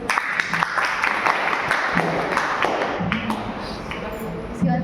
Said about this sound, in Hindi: उसके लिए ताली लगाइए